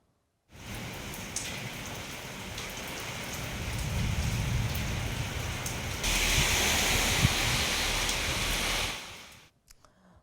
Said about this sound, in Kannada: ಗುಡುಗು ಸಿಡಿಲಿನೊಂದಿಗೆ ಕೆಲಕಾಲ ಧಾರಾಕಾರ ಮಳೆಯಾಗಿದ್ದು